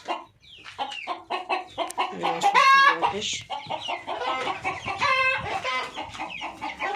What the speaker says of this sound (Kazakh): Әтеш шулап кетті.